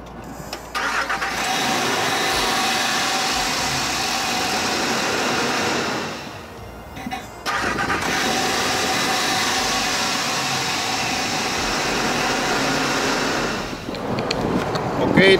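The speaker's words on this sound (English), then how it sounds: "I'm gonna crank the engine." A Ford F150 engine cranks and fires after a starter motor replacement, with two long loud stretches of engine roar broken by a brief pause, plus some wind noise buffeting the microphone.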